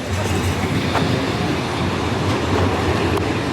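An airport-bound tram in Istanbul, a steady loud rumble of rolling rail cars with faint clatter, continuous and close, with no talking.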